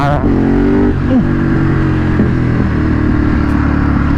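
A loud Ducati 848 motorcycle engine revs close by, its pitch rising briefly before settling into a steady, rumbling roar.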